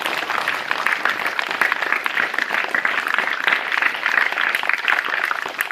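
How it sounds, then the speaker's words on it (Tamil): Schoolchildren at an environmental awareness event clap for the organiser, a dense, lively burst of many small hands clapping steadily throughout without any talk. "அவருக்கு ஒரு பெரிய கைத்தட்டல் கொடுத்துருவோமா?"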